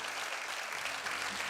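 A Creole music show audience gives a brief, dense round of applause for two pillars of a band, steady and fairly full throughout.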